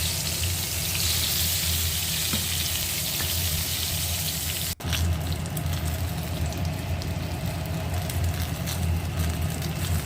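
Eggplant slices coated in besan (gram flour) sizzle steadily as they fry in hot oil, a dense, continuous crackle that runs unbroken apart from one brief dip partway through.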